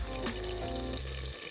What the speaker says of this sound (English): The second stage, add water and cover with the lid to steam.